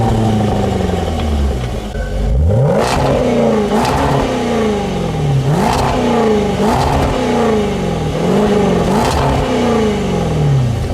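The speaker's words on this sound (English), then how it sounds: "with this big V8, this thing sounds pretty good with the sport exhaust" A Range Rover Velar SVAutobiography's big V8 with sport exhaust revs repeatedly, about five loud, close blips rising and falling in pitch over a rumbling idle, with no talk.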